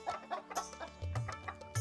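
A Swarnadhara chicken clucks softly in short, repeated bursts, close by, with a few louder low clucks near the end.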